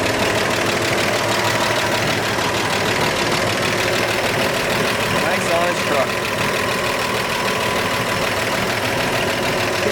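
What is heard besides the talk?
1948 Chevrolet 3100 pickup six-cylinder engine idling, lifters ticking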